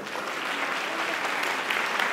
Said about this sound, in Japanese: 今一度盛大な拍手をお願いします。